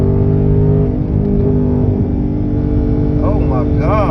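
A Dodge Hellcat's engine rumbles loud and close in a dense, steady drone that swells slightly toward the end, with voices mixed in.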